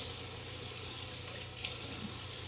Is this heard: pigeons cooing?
no